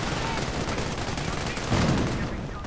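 Battlefield sounds from a WWII strategy video game, dense overlapping gunfire with mortar and sniper shots, a continuous loud rattle of small arms with a heavier burst near the end.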